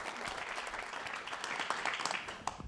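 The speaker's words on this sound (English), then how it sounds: "A round of applause." Audience at a White House Recovery Month Summit giving a round of applause, a steady, fairly distant wash of many hands clapping, with a few murmured voices near the end.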